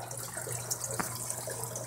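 Water flows steadily back into a fish tank through a return valve in an aquaponic setup, a soft continuous trickle with a brief splash midway.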